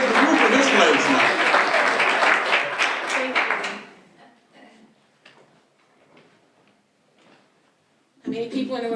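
A fundraiser audience gives a hearty round of applause that lasts about four seconds, then fades to faint room sounds before a voice starts speaking again.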